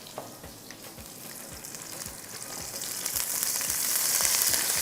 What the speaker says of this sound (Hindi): थोड़ा सा पानी डालेंगे इसमें।